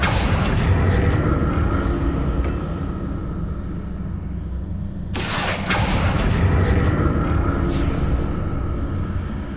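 Confringo spell blasts in Hogwarts Legacy, deep booming rumbles filling the scene, one heavy blast at the start and another sharp burst midway, loud and rolling.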